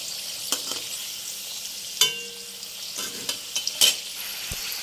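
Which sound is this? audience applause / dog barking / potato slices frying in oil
potato slices frying in oil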